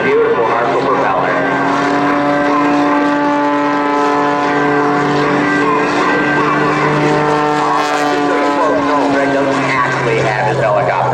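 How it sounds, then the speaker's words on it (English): Ethanol-powered MXS aerobatic aircraft with a Hartzell propeller performing at a 2011 airshow, its engine a loud, steady, close drone with harmonic tones that shift in pitch through the manoeuvre, with no talk over it. "let's see if he can turn this ethanol-powered MXS aircraft into a helicopter"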